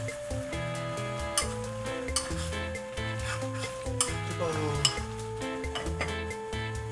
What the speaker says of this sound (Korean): 한번 섞어 줄게요